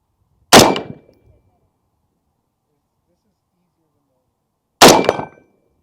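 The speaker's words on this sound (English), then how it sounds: "let's try that 8-inch gong one more time here." Two rifle shots from a PSA JAKL ring off an 8-inch steel gong, each a loud sharp crack with a bright metallic clang that decays quickly, the pair separated by about four seconds of silence.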